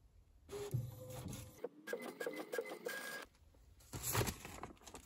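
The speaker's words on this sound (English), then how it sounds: "It is printing." A printer feeds and prints onto a giant paper envelope, its motor whirring and clicking in steady mechanical passes with a brief quieter gap in between, close by.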